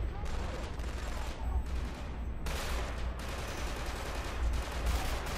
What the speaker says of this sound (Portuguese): Tomando vários tiros aqui.